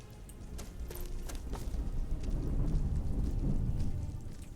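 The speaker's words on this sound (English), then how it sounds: "You guys are walking in the rain as well, looks like." Rain falls steadily in Skyrim while thunder rumbles low and builds to a swell, with light footsteps tapping through the downpour.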